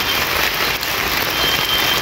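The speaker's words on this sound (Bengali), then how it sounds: "সকাল থেকে প্রচণ্ড বৃষ্টি" Heavy rain pouring steadily on an outdoor market of goddess idol sellers, a dense continuous hiss and patter with no break, loud and close.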